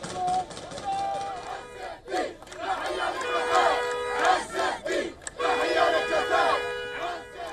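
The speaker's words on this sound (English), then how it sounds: "armed Hamas operatives paraded through crowds of Palestinians in the streets of Gaza, chanting in celebration after the delayed ceasefire" Dense crowd of Palestinians shouting and chanting in celebration in the streets of Gaza after a ceasefire, with armed Hamas operatives parading through; loud, continuous massed voices with surging cheers and brief lulls.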